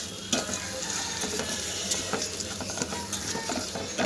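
Drumstick and lentil mixture sautéing in oil with cumin and red chilli powder, a dense continuous sizzle with frequent scraping strokes of a spatula against the pan, loud and close.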